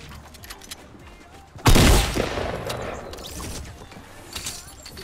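Shotgun fire in the Fortnite video game: a sudden loud blast cuts in after a quieter stretch of game noise and rings out as a long, decaying crash, followed by softer background sounds.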